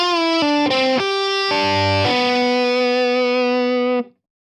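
Distorted electric guitar plays a slow Mixolydian lick of a few sustained notes, ending on a long held tone that rings out clearly before cutting off, loud and alone.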